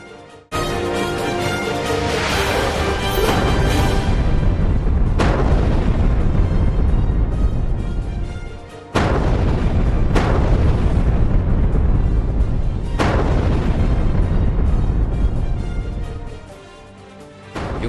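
Heavy gunfire and artillery explosions at Ukhtiyarka station in Ukraine, a long, loud roar of war with several sharp detonations breaking through continuous rumbling blasts, then fading to a lull before another boom.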